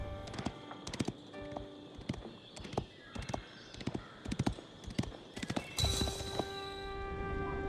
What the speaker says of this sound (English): With each gallop of his horse's hooves, more of Guillaume's land was revealed to him.